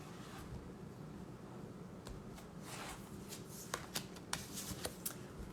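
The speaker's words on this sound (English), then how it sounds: "So let's pull an oracle card." Oracle cards are shuffled by hand, a soft, close riffling swish followed by several crisp taps and slaps of the deck, faint and quiet against low room noise.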